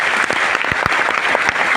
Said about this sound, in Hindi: स्मार्ट वैल्यू के लिए एक बार जोरदार ताली बजाइए